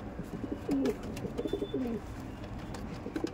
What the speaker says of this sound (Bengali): এটা আন্দ্রা পায়রা